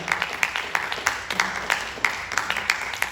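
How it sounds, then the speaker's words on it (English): Applause at an inaugural event: a modest crowd claps in steady, overlapping bursts, fairly close and sustained with no speech over it. "A round of applause."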